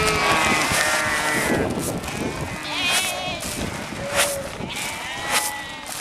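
Merino sheep bleat on a dry Tankwa Karoo farm, several loud, wavering bleats overlapping from a flock close by, with some outdoor shuffling between the calls.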